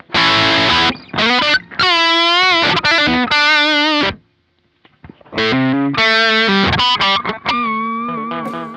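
Electric guitar with its volume knob near 4, played through a Kemper amp running a Marshall 30th Anniversary profile: bright, lightly driven chords and notes with a pause in the middle.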